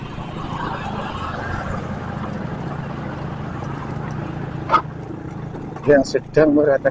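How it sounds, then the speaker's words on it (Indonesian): The engine of a vibratory road roller warms up on a road under construction, giving a steady low rumble that fills the scene, with brief noises and faint voices toward the end. "itu mesin vibronya lagi dipanasi, dan di sini juga ada mesin perata yang sedang meratakan."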